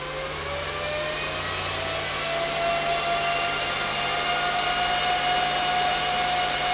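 The cooling fans of an Ice River KS1 Kaspa ASIC miner roar as a loud, steady, close whir. Their faint whining tones slowly climb in pitch as the fans speed up.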